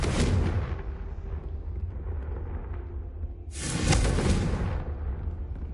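The Confringo fire spell exploding in Hogwarts Legacy: two heavy booming blasts with a rushing roar, the second arriving about three and a half seconds after the first, each fading into a low rumble.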